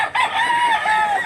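A rooster, one of a father's tapayan fighting cocks in Mantalungon, Cebu, crows once in a loud, close call that stretches over a second, with a steady sustained tone.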